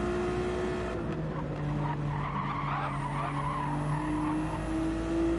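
Race car tires squeal and slide through a corner at Laguna Seca in a racing game, a steady high screech over the drone of engines that stays prominent for several seconds.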